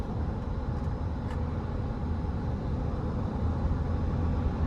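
Steady, close engine and road drone from a moving 2014 GMC Sierra 1500 SLT pickup with the 5.3 engine and nearly 130,000 miles, heard from inside the cab as an even rumble with no talking.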